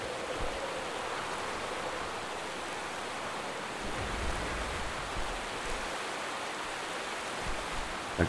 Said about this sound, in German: Ich höre einen Wasserfall.